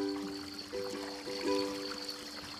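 Water trickles and murmurs gently, like a nearby river at night in a quiet countryside village. The sound is soft and continuous, mixed with faint sustained musical tones.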